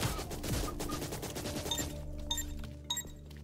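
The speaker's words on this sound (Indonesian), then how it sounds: "Awas ya sampai kena tembakan yang banyak ini." Heavy enemy gunfire barrage in the game Bloody Hell, a loud continuous clatter that thins out partway through into scattered sharp hits and glassy clinks.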